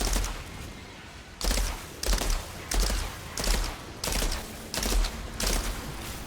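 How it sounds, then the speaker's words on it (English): Shotgun blasts in the Outriders video game during a boss fight against a giant worm-like creature, seven loud evenly spaced booming shots, each with a short ringing tail, fired alone. "Use my shotgun now."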